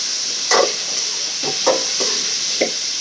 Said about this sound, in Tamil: எண்ணெய் ஊற்றி கடுகு போட்டு மாங்காய் கொட்டிருக்கேன்.